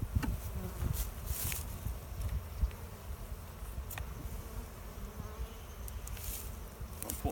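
Honey bees buzzing steadily around an opened hive during a colony inspection and transfer from a beer-cooler hive, a dense continuous drone close by with no talk.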